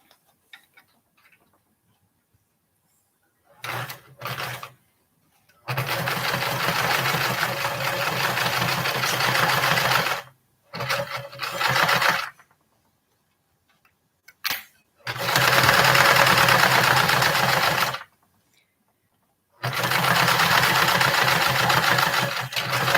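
A sewing machine stitches a seam on a small fabric bag in several bursts: steady, close mechanical whirring runs lasting a few seconds each, separated by short stops and brief start-stop pulses.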